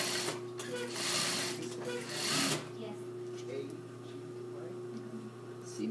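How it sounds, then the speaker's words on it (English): A sewing machine stitches fabric that is held together with pins, a steady close whir that runs in bursts and slows at times, with faint voices in the background. "Try not to sew over the pins."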